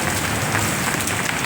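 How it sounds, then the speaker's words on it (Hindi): Heavy downpour during a storm with hail falling, a dense, steady hiss and patter of rain on surfaces, loud and close without pause. "क्या झमाझम बारिश हो रही है"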